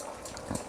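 Chopped mushrooms, cauliflower, peppers and corn are tipped into a simmering pot, giving a soft, wet, bubbling tumble for a brief moment. It is fairly quiet, with no voices.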